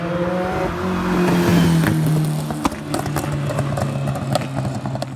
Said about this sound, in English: Some of those pops could be fireballs.